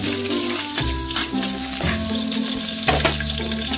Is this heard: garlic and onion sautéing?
yes